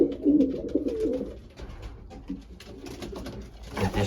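Racing pigeons coo in a loft holding about twenty youngsters, a low warbling burst loudest at the start, then softer cooing and scattered wing and shuffling noises close by.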